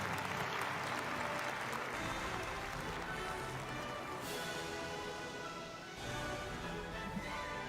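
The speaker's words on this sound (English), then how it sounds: "round of applause." A big round of applause from the audience at the opening of the Sunhak Peace Prize award ceremony, a dense, sustained wash of clapping that fills the hall for several seconds, slightly distant and even.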